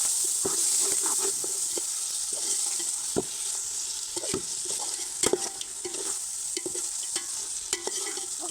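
Chicken pieces sizzle in biryani masala as a steady hiss, while a utensil stirs and scrapes the pan in irregular, distinct knocks and clinks. The sound is close and has no talking.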